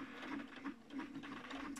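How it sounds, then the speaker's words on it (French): A sewing machine runs steadily through a decorative wing-needle hemstitch, overcasting a fabric edge, with a continuous whirring hum and faint rhythmic clatter throughout, close and alone. "je vais travailler sans la pédale, mais avec le point, la touche marche-arrêt"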